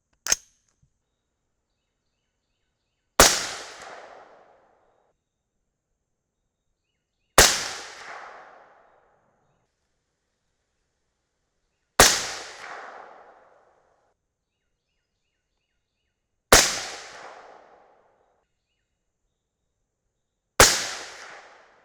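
A .223 Remington rifle fires 77-grain Berger OTM bullets over N540 powder: six loud, sharp cracks about four to five seconds apart, each trailing off in a short echo, with silence in between.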